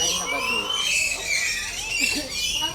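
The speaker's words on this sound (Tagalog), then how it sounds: "Ne, Kiko, dito kalapati ne." Pigeons in Cebu province, outdoors, giving short squawking bird calls while people talk close by over the birds.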